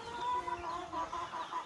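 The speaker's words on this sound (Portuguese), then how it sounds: "Eram as galinhas." Hens cluck steadily and close by in a nest box on a small farm, a black hen and a yellow hen that have started laying, with soft continuous clucking and no talking.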